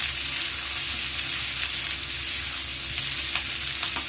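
Garlic and green chilies sauté in a pan for a garlic kuzhambu, giving a steady, close sizzle with faint stirring scrapes and no talking.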